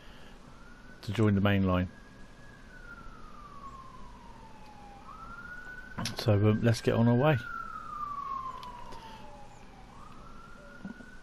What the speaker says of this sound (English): Sirens abound.